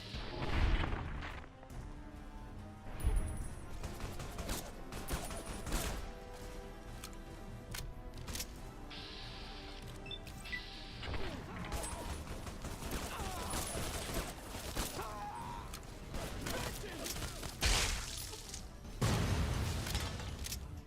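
Repeated gunfire from a favorite weapon in the Fallout game Tale of Two Wastelands, loud bursts and booming shots continuing densely throughout, with clattering impacts and game effects layered underneath.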